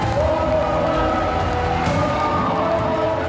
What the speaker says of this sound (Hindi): इस रैली में समर्थकों की भीड़ उमड़ी।